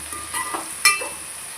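Vegetables for vegetable rice sizzle in a pan after salt is added, with a soft stirring scrape and one sharp clack of the spoon mid-way, close and short.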